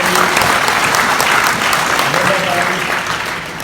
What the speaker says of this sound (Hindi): जोरदार तालियां हो जाए उनके लिए